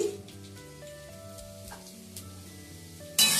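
Chopped vegetables with diced carrot sizzle in hot oil for a momo filling, a soft frying hiss beneath steady background music, ending in a brief louder burst.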